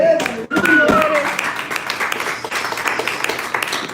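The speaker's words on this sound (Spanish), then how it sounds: "Aplausos." Congregation applause fills a church service, with a dense wash of clapping and crowd noise after a brief dip, steady and fairly loud throughout with voices mixed in.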